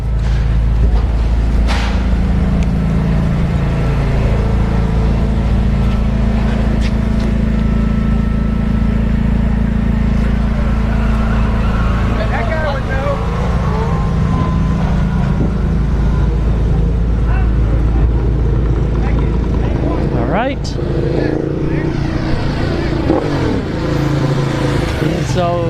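A C4 Corvette runs at a no-prep drag racing event at Orlando Speed World, its loud engine roaring steadily over a constant crowd-and-track din, with a sharp rising rev near the end and voices mixed in.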